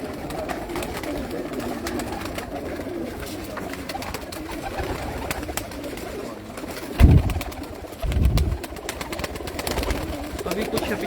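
Pigeons coo on a rooftop loft holding over a hundred birds, soft steady cooing throughout with a couple of louder bursts of wingbeats or movement nearby, and faint voices in the background.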